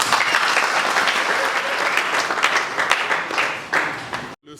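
Sustained audience applause at a memorial ceremony at the mausoleum of the late E. Tshisekedi in the DR Congo, a dense steady wave of clapping that swells briefly near the end and then cuts off abruptly.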